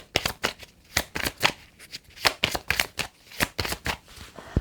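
Tarot cards are shuffled by hand, a close series of sharp riffling snaps and slaps in an irregular, quick rhythm that continues throughout without any talking.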